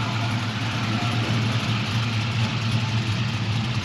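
A 1969 Chevrolet Camaro resto-mod with a 6.0L LS V8 sits at a steady, loping idle, a low, even rumble heard close by with no voices.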